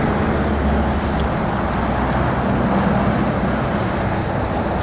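Loud highway traffic heard from an e-bike on tour, a dense unbroken roar of passing vehicles close by, steady and loud with no talk.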